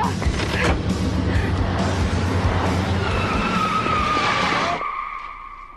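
A car drives hard and skids, giving a loud, sustained rush of tire and engine noise that ends in a rising squeal before cutting out abruptly.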